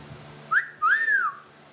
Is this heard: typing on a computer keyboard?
no